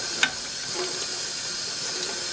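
Running water rinsing Krud Kutter cleaner off the oil drip pan of a vintage Singer 403A sewing machine, a steady hissing stream with one brief clatter at the start, no voices.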